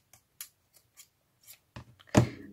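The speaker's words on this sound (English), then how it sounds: "I thought the scissors didn't work." Scissors snip through paper while making a floral belly band craft: a series of quiet, close, irregular cuts, with the final snips louder and fuller.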